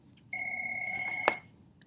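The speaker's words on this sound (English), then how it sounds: "My phone's ringing, seriously." A mobile phone rings indoors with a steady electronic two-tone ringtone that starts abruptly, holds for about a second and ends with a sharp click, fairly clear with no voices over it.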